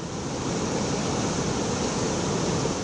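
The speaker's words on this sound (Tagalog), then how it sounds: "Malalakas at matataas pang alon sa baybayin." Strong, high waves batter the shore at Gonzaga, Cagayan, during Typhoon Marce, a dense unbroken roar of surf and wind, loud and steady with no voices.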